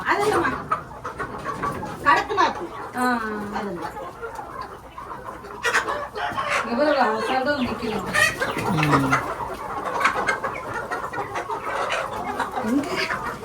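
A black chicken clucks repeatedly at close range while people talk over it, with other farmyard bird calls mixed in.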